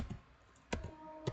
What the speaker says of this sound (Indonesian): kita coba ketik lagi